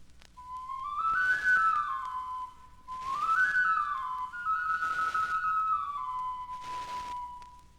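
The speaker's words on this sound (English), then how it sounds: "Here's a flute, made in Mexico at about the same time." Ancient clay flute from Mexico plays four sustained, gliding whistle-like notes in separate breaths, each rising then sliding down, clear and close with breathy attacks and no voices.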